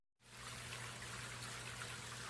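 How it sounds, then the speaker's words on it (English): Water trickles from a fountain head into an indoor pond in a grow space, making a steady, close, continuous splashing hiss that starts abruptly and carries on without any voices. "And that thin wall of water moving around in here."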